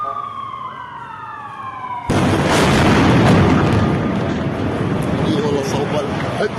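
A big air strike hits a building in the Al-Nasir area of Gaza, a sudden massive blast erupting after a wailing siren, then a sustained loud roar and rumble of debris.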